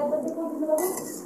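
Plates and dishes clink and chime close by as food is served, a short cluster of ringing ceramic and metal contacts lasting about a second.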